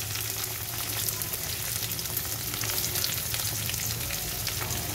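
Onions frying in hot oil with garlic for a homemade rohu fish curry give a steady, close, dense sizzle that runs unbroken for the whole stretch, with no talking.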